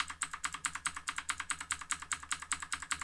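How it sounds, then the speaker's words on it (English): Arrow keys tapped on a computer keyboard in a steady run of about fourteen evenly spaced, close, crisp key clicks with nothing else heard. "I can use up arrow to move up one line"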